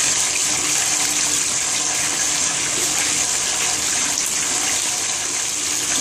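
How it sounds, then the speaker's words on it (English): Water gushes steadily from a bath tap into a tub, a loud, even rushing splash that holds without a break. "so I'm going to turn the water on"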